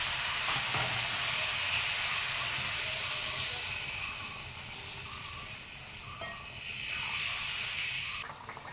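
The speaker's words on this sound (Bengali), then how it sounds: "এবার একটু জল দিয়ে কষিয়ে নেব।" Spice paste of turmeric and chilli powder sautéed with a little water for a fish curry, a steady hissing sizzle close up that dips and swells again, with faint stirring and no talk.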